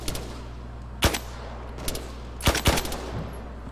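Gunfire in a military video game: a few sharp shots and short bursts, the loudest near the start and a tight cluster later, over a steady low hum of ambient noise.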